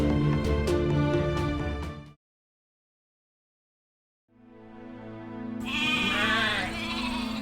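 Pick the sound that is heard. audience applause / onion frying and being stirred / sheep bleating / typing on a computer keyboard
sheep bleating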